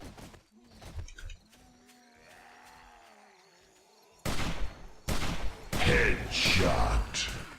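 Gunfire in the survival zombie game 7 Days to Die: a few sharp shots, quiet at first and then a louder burst of repeated blasts near the end, mixed with game sounds.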